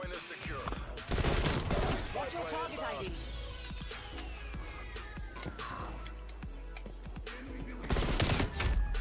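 Rapid bursts of gunfire in Black Ops Cold War Hardpoint on the Raid map, including an AK-74U, crackling in quick volleys under players chatting.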